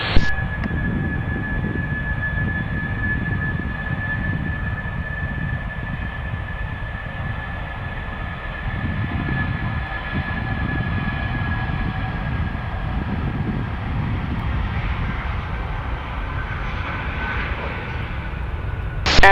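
Air Serbia airliner at an airport, engines roaring steadily through a takeoff roll with a sustained broadband rumble and a steady high whine, loud and close throughout, with no voices over it.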